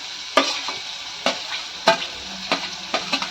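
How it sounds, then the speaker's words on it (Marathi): Chopped onion and chili frying in a pan, with a quiet background sizzle broken by sharp, irregular clacks of a spatula stirring against the pan, close and with no voices. "कांदा आणि मिरची एकदमच टाकते. ते सगळं एकदम भाजून घेऊ."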